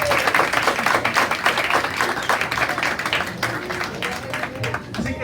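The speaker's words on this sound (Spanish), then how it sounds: "Un aplauso a todos." A church congregation claps together during a sermon, a sustained, fairly close patter of many hands with a few voices mixed faintly underneath.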